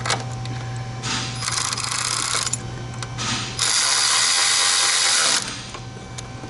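Ratchet driving T30 Torx bolts into a small bracket on an Audi A6, with two long stretches of loud, close, continuous ratcheting clicks separated by short pauses and a steady low hum underneath.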